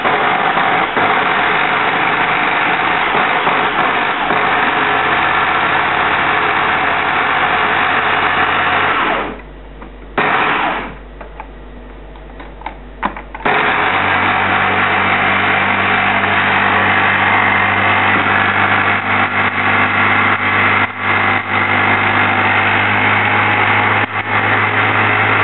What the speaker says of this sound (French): j'ai juste mixé un peu au mixeur au tout début